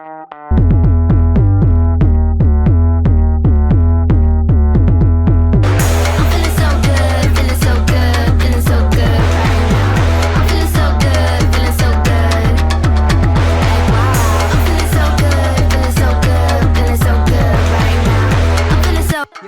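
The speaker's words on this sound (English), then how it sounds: "I will go play a chromatic part up the octave on my actual bass" A deep bass guitar plays a steady chromatic line of stepping notes up the octave, loud and close, joined after a few seconds by a fuller, busier backing.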